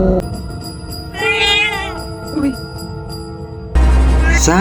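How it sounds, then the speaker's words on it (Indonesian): A black cat lets out loud meows, several wavering cries over a busy background, with a sharp louder burst near the end. "tampak seekor kucing hitam yang entah dari mana masuknya menatapnya dengan tajam hingga dia mengeluarkan suara yang sangat"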